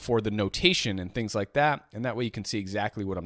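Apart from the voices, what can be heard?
None of the usual background noises is heard.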